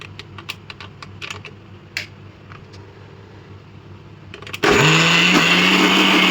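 A few light clicks and taps come as the mixer grinder jar is set up, then the motor starts with a loud, steady whirr as it grinds soaked moong dal for pesarattu.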